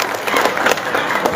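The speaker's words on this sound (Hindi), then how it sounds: "एक मरतबा तालियां बजा के मुझे आदेश दे" A short, lively burst of audience clapping at an Urdu poetry gathering, a mushaira held in Walandi, with quick overlapping hand claps.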